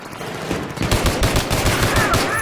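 Rapid automatic gunfire in a Battlefield 3 multiplayer match, loud and close, with dense rattling bursts and scattered single shots running continuously.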